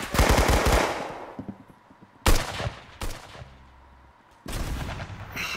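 Gunfire in the Roblox game Arsenal comes in several loud automatic bursts separated by short pauses, with sharp attacks and crackling decays, and no talking is heard.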